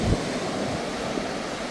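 Ocean waves wash onto an Adelaide beach on a hot day, a continuous broad surf hiss with wind buffeting the microphone and no voices.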